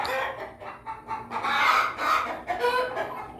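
Several farm chickens clucking and squawking close by, a busy overlapping flock chatter with bursts of louder calls.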